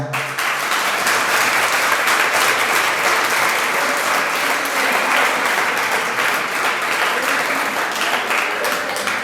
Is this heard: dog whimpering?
no